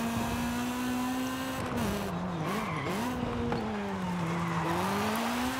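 A B16-swapped Honda CRX in Forza Horizon 5 drives near and loud, its engine note swooping down and back up through braking and lift-off, with tire squeal mixed in and no talking.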